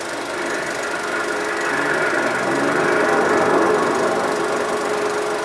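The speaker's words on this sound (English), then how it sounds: "The 53 Dodge and its power-packed Red Ram engine won that one by more than 2 lengths." A 1953 Dodge with a Red Ram V8 engine accelerates hard in a 100-yard dash, a steady loud engine roar building slightly as it goes, heard alone with no talk.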